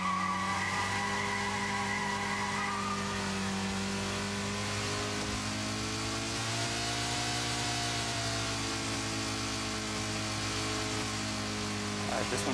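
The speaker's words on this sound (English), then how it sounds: "See if I can really get those tires to smoke." Car tires skidding on a race track in the VirZOOM virtual reality game, a sustained screech over a droning engine whose pitch shifts gradually, loud and continuous.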